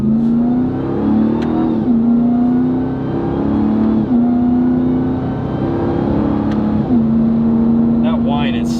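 A RAM TRX pickup's engine whines and revs hard through a launch, its steady drone stepping up in pitch several times as it pulls through gears, loud and close, with a person talking over it.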